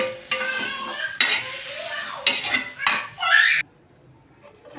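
Onion, tomato and garlic fry in a pan while a utensil stirs and scrapes in several bursts, sizzling strongly before cutting off to near silence.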